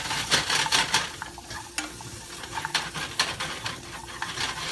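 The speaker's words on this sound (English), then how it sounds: "Carrot saute." Rainbow carrots sautéing in a pan, with a low sizzle beneath brisk, irregular spatula scrapes and clacks against the metal, close and fairly loud.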